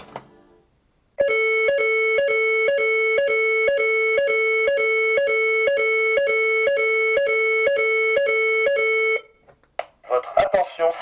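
A Neutronic TT4-RF2 evacuation alarm sounds loudly and alone: a rapid, evenly repeating electronic tone pulses for about eight seconds after a short pause, then stops abruptly before a voice begins speaking.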